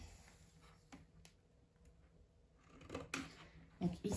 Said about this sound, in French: Donc là, je vais venir couper.